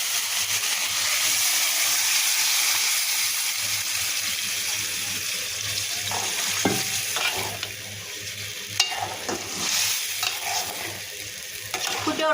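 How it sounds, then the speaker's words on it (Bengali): Bottle gourd poured into a pan of cooked prawns on the stove, setting off a steady loud sizzle and hiss of frying that eases slightly, with a few stirring clinks and scrapes toward the end. "এবার আমি লাউগুলো ঢেলে দেবো।"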